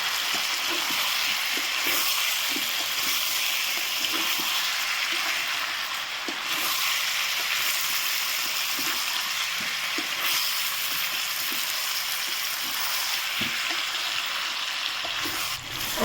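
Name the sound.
potatoes and meat frying in an electric wok, stirred with wooden spatula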